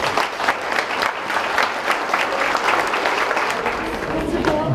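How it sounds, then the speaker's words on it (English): Sustained audience applause at a high school fall sports banquet, honoring the boys and girls cross country team; dense, steady clapping from a full room for about five seconds, loud and continuous with no gaps. "A final round of applause for our boys and girls cross country team."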